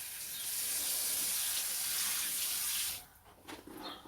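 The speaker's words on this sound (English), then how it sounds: "And then we'll water this one in because it was very dry in that pot." Water pours steadily from a watering can onto a dry potted tomato plant in a greenhouse, a close, bright splashing hiss that stops abruptly, leaving a few last drips and trickles.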